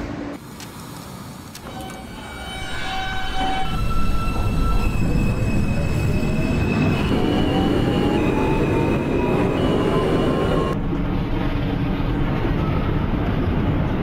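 A New York subway J train pulls away in a simulator game, its motor whine rising steadily under rumbling wheels and faint squeals, with a chime early on and a steady rolling drone afterward.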